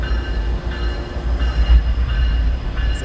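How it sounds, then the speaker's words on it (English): A Tri-Rail commuter train passes nearby, a loud, steady low rumble of rolling rail cars that holds for several seconds with no speech. "There's a giant train passing by"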